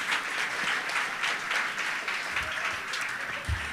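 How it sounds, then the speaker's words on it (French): Audience applause for the jury members at the grand final of a student genius quiz contest, a dense steady wash of many hands clapping throughout, moderately loud and unbroken. "Je vous demande d'applaudir les membres du jury"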